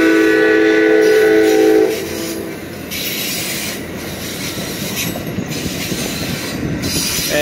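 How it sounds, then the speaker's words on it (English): Amtrak San Joaquins train led by an F59PHI diesel locomotive passes close by at a road crossing, with a horn blast fading into loud rumbling wheels, rail clatter and squeal. "here comes San Joaquin train"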